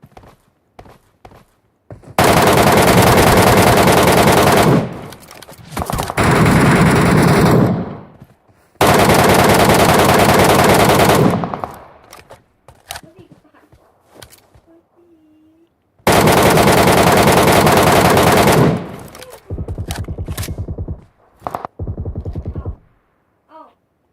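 Bursts of automatic gunfire in a shooting video game, several long, loud, rapid volleys separated by quieter stretches with footsteps and softer in-game sounds.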